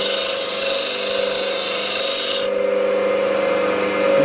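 A skew chisel being sharpened heel to tip with a very light touch, heard as a steady whirring hum of a sharpening wheel with a higher grinding layer that drops away midway, close and continuous.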